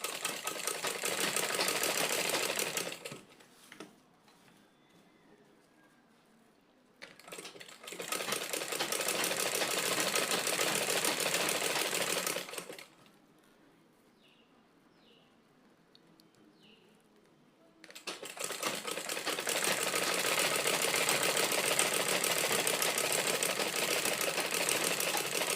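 A sewing machine stitches corset bone channels in three bursts of rapid, even whirring, separated by quiet pauses with faint ticks from the machine.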